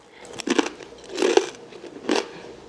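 Crisp bites and crunches of a seasoned whole-grain snack, three distinct crunchy bursts spaced about a second apart, close and clear with no talking.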